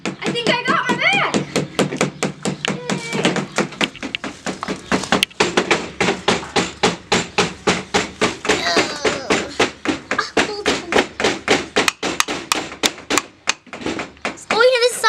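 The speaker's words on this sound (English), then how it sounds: "Hammer, hammer. Hammer, hammer." A hammer drives nails into a homemade wooden bird feeder, striking in a fast steady run of sharp knocks close by, with short breaks and a voice talking over the first few blows.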